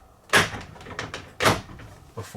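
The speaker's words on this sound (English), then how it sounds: "the door will close all the way" RV door on a Coachmen Mirada 35ES motorhome closing and latching: a sharp bang near the start, lighter knocks and rattles, then a second firm thud and a shorter clack at the end, close by.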